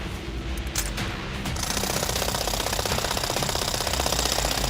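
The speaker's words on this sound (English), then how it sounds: "bring in the high-powered hydraulic wrench to loosen the last remaining bolt in the joint" A high-powered hydraulic wrench works at a rail joint bolt, hammering out a loud, fast, continuous rattle that starts after a brief quieter moment and keeps going steadily to the end.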